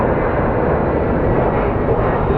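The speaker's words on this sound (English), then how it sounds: "That's a very steep takeoff." Loud, continuous roar from a fixed-wing airliner making a steep takeoff at Phoenix Sky Harbor International Airport, a dense steady engine rumble and rush that fills the whole moment without any talk.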